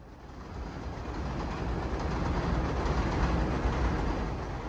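A train rumbles steadily over elevated tracks at Willets Point, a loud continuous roar with a faint clatter of wheels that holds at full strength throughout, with no voices.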